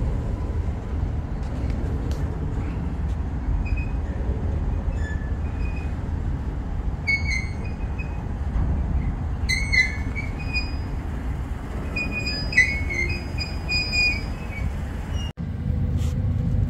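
A long CSX manifest freight train rolls past on the rails, a continuous low rumble with intermittent high wheel squeals and metallic screeches, fairly loud and steady, no talking.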